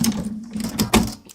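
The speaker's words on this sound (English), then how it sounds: "you've been giving your sewing machine a workout too?" A sewing machine stitches fabric in quick, close bursts over a low mechanical hum, with short pauses between runs and no voices.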